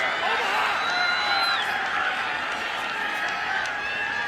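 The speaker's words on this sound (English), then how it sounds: "That's an applause from the Maryland contingent." Lacrosse fans of the Maryland contingent applaud at an NCAA men's semifinal against Duke, a steady, distant crowd clapping and murmur running under continuous commentary.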